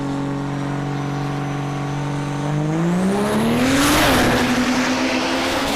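A diesel truck sits on a steady, droning idle at the line at Tulsa Raceway Park, then launches down the drag strip. The engine roars loudly and climbs sharply in pitch as it pulls away, with a brief shift and then a sustained high-revving scream.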